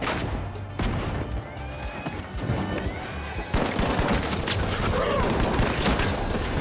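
Gunfire in the video game The Finals, bursts of rapid shots with crashing impacts that grow louder and denser halfway through, under brief quiet talk.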